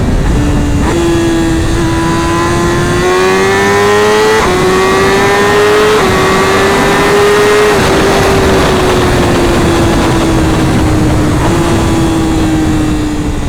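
A 2026 BMW M1000RR superbike accelerating hard through a quick pull, loud close engine howl rising in pitch through several gears with brief dips at each shift, wind rush underneath, no talking.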